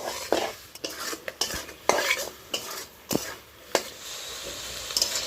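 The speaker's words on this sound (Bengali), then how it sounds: "আন্দাজ মতো দিচ্ছি হলুদ গুঁড়ো নেড়ে চেড়ে তিন থেকে চার মিনিট সময় নিয়ে ভালোভাবে কষিয়ে নেব" A spoon stirs and scrapes raw jackfruit curry with turmeric around a hot pan, giving a string of sharp, irregular clatters over a soft, steady sizzle, close and loud, with no speech.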